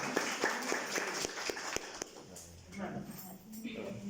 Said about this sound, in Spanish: Un aplauso para el grupo 2 y el 1